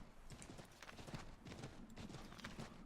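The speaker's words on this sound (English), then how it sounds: "it's a long horse ride" Horse hooves clip-clop steadily during a long ride in the video game Assassin's Creed III, a continuous rhythmic clatter at moderate level with no talking.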